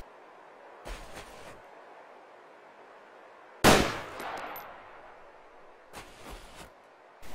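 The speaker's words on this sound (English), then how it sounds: "fire a shot into the glass" A single video game gunshot fired into a vehicle's window glass cracks out sharp and loud, with a brief ringing tail. Fainter clicks come before and after it, and no one speaks.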